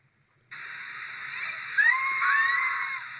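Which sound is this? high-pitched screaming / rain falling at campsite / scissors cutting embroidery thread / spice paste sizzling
high-pitched screaming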